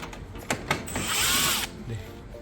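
A power screwdriver whirs for about a second, backing a screw out of the casing of an LG Whisen stand air conditioner during disassembly, preceded by a few clicks and handling knocks, close and clear.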